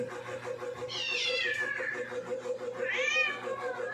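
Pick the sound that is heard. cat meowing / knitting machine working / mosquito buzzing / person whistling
cat meowing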